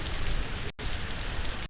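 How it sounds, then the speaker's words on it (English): Steady, dense rain hisses loudly and evenly with fine pattering, briefly cutting out for a split second before resuming; no voices. "And it's a rain sound."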